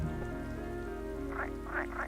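A frog croaks in the adventure game The Whispered World, three short raspy calls near the end over a steady ambient background drone.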